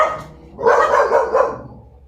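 Two dogs barking indoors, a short faint yip followed by a loud burst of overlapping barks that fades out over about two seconds.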